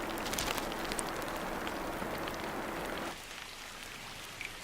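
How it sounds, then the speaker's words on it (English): First monsoon rain falling in a tropical forest, a dense steady hiss of drops on leaves and ground that drops to a lighter, quieter patter partway through, with a couple of close drips near the end. "That call comes with the first of the monsoon rains."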